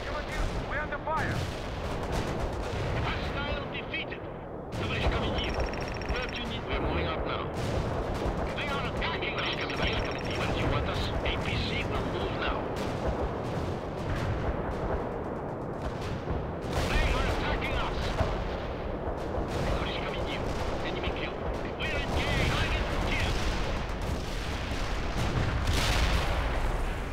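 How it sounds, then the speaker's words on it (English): Distant artillery and gunfire in the real-time strategy game World in Conflict rumble as a continuous battle wash. Muffled booms and scattered shots sit under radio-style voices and music, and the clamor never lets up. "We're under fire!"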